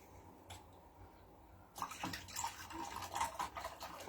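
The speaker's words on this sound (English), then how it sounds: "pour a little bit of iced tea here" Iced tea poured into a glass, a soft trickle starting partway through and swelling into a brighter, splashy liquid sound up close, with no talking.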